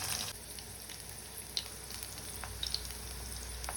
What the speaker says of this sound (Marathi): एक 4-5 मिनिटं झाल्यावर ही भेंडी पालती करून तळून घ्यायची आहे.